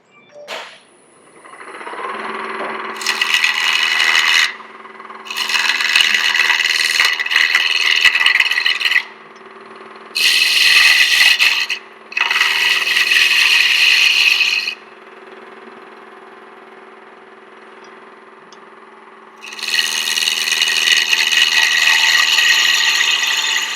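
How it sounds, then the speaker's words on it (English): A gouge cutting wood on a lathe for inside-out turning: a low steady motor hum runs throughout, broken by several loud, close, raspy shearing bursts of a few seconds each as the tool bites into the spinning wood. "so I'm going to keep cutting that down. I may switch to a smaller gouge."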